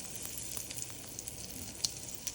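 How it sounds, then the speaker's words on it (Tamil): Mustard seeds and curry leaves spluttering in hot oil during a South Indian tempering, a steady soft sizzle with a couple of sharper pops, fairly faint and with no talking. "கருவேப்பில் பொரியுது"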